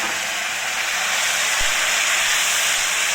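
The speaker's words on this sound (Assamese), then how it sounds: "এতিয়া মোৰ কেৰাহীত তেল গৰম হৈ গ'ল। মই এতিয়া আলুখিনি ঢালি দিম ইয়াতে।" Marinated potatoes hitting hot oil in a wok give a steady, loud, broad hiss of sizzling with no speech, holding evenly from start to finish.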